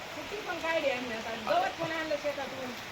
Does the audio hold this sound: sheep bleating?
no